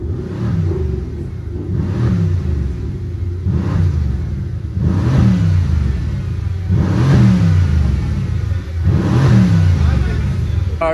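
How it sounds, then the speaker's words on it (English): A Ford Mustang GT driven on city streets in Accra revs repeatedly, its deep engine note rising and falling in about five loud, rhythmic surges, close by and dominating the scene. "Mustang GT is loud."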